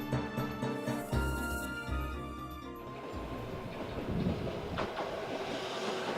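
An Ichibata Electric Railway train runs through the Izumo countryside with a rumbling, rolling rail sound and rhythmic wheel clatter, heard alongside background music at a moderate, steady level.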